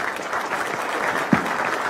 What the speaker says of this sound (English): Let's keep the applause going for our panelists, Molly Stanks, Bill Leaders, Judy Davidoff.